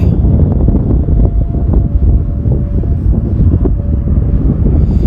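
Strong wind buffets the microphone while an Autel Nano Plus drone flies outdoors, making a loud, constant low roar and rumble with no break, and a faint tonal whine running underneath.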